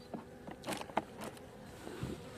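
A low, continuous buzzing of honeybees at a hive hums throughout, with a few brief louder swells as individual bees pass close by.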